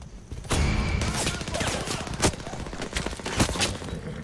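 Gunfire in the open-world shooter Far Cry 6, several loud, sharp shots over a busy, noisy action background, with speech mixed in.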